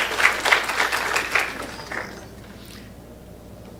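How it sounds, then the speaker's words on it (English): A burst of audience applause at a school career day, many hands clapping together, that thins out after a couple of seconds and trails into quiet room tone. "Can we give her a round of applause?"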